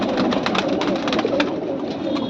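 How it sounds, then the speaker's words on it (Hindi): A dense chorus of Banarasi pigeons coos and flutters close by, steady and loud throughout, with no voices. "कबूतर है एक बनारसी कबूतर।"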